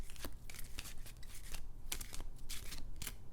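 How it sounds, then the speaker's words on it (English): Tarot cards shuffled by hand in a quiet room, a run of crisp papery riffles and soft slaps repeating every fraction of a second, close and fairly quiet, with no talking. "I'm going to show myself shuffling the cards and then making 4 piles."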